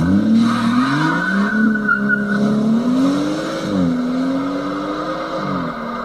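A BMW M140i fitted with a Remus exhaust runs at full throttle, its engine note loud and close, rising and falling in pitch through several surges of revs with a raspy exhaust tone.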